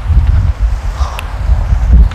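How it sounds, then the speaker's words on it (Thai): Wind gusting across an open beach, a steady low rumbling buffet with bursts and swells, close to the microphone and alone with no one talking. "ลมมันพัดน่ะ"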